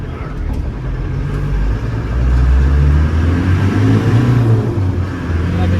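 A 1993 Land Rover Defender 90 with the 200Tdi diesel engine accelerating, a steady loud engine drone that swells in the middle and stays close throughout with no talking.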